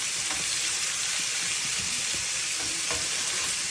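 Small pieces of beef frying in a pan give a loud, steady sizzle throughout, with faint scrapes now and then as the pieces are spread flat. There is no talk.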